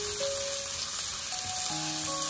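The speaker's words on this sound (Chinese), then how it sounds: "油热之后把蒜末放入锅中给它翻炒一下" Minced garlic stir-fries in hot oil in a wok with a continuous quiet sizzle and crackle. Faint background tones sound beneath it, and nobody speaks.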